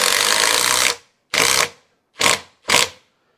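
A Ryobi lag driver sinks a 3.5-inch lag screw: one long, loud whirring burst of almost a second, then three short bursts in quick succession, close up with silence between them and no speech.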